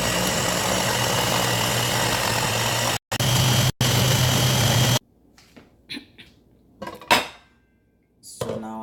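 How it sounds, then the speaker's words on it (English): A blender whirring loudly and steadily as it purees green chili pepper sauce, with two brief cutouts, then stopping at about five seconds and followed by quieter clinks and knocks of a jar and lid. "and then we blend it."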